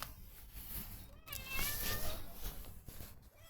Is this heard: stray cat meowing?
yes